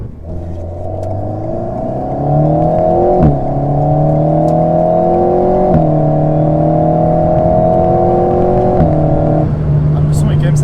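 A 2017-style Alpine A110 Pure sports car engine revving up, its tone climbing in steps as it pulls through gears, loud and close, with brief dips at each shift and a voice speaking lightly over it.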